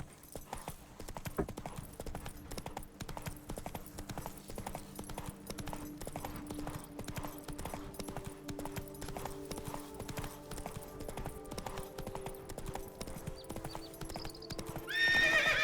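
Roach, a horse in The Witcher 3, trots along with steady, evenly spaced hoof clip-clops that continue throughout, fairly close, with a brief whinny-like lift near the end.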